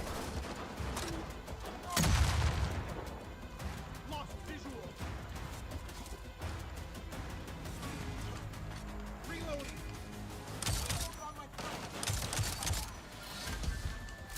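Gunfire in the game Avatar: Frontiers of Pandora, with bursts and sharp impacts rising out of a dense, busy soundscape of music and effects, with one loud blast near the start and more bursts toward the end.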